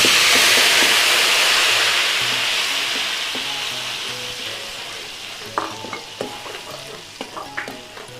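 Ground onions and garlic sizzle and hiss steadily in oil in a wok, loud at first and gradually easing, with light clinks and scrapes of stirring toward the end.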